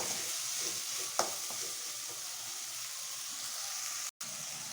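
Tomatoes with salt sizzle steadily in a pan, a soft continuous frying hiss with a few brief scrapes and clicks of stirring, close and fairly quiet.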